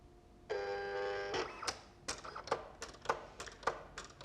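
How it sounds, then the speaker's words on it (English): Electronic cutting machine working on cardstock with its blade, a steady whirring motor tone followed by a run of sharp, evenly spaced clicks and taps as the carriage moves, heard alone at close range. "what it's doing here is adjusting the height or the depth of the blade cutting"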